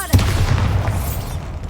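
Bombarda explosion spell going off in the video game Hogwarts Legacy, a sharp booming burst followed by a dense low rumble that lingers and slowly fades over the next second.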